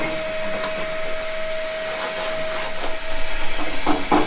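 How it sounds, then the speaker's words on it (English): A shop vac running steadily while cleaning debris out of the cabin of a crash-damaged 1934 Plymouth rally car, a continuous loud whine and hiss with the suction note shifting and rattling as it picks up bits near the end. "let's grab this shop vac, Andrew, and let's clear this crap out"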